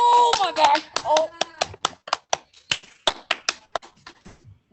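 Sparse, uneven claps from a small audience at a seventh-grade school play of The Brothers Grimm Spectaculathon, a few voices at the start, then scattered individual hand claps spaced irregularly and fading out.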